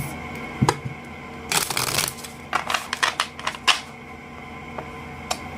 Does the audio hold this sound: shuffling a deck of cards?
yes